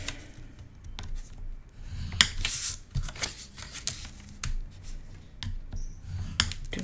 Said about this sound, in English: just want to score this on the 2 short sides